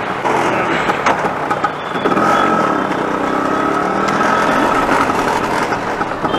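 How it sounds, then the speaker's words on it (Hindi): A father's Super Scooter engine runs steadily as a ride gets underway, a continuous, fairly loud motor drone mixed with broadband wind-like noise and no talking. "तो अब हमारी राइड शुरू होगी पापा के स्कूटर पे।"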